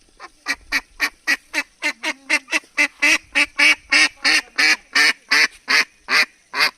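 A duck calling close and loud, about twenty evenly spaced harsh quacks in a steady rhythm, with no other sound between them.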